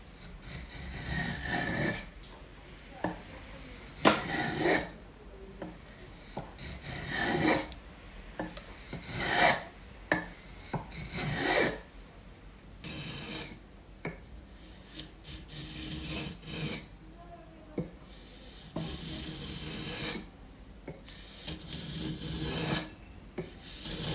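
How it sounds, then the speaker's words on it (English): A freshly sharpened hand plane shaves a mahogany block in a luthier's workshop, with repeated close, dry rasping strokes in a steady back-and-forth rhythm and no voices. "A plane that is sharp"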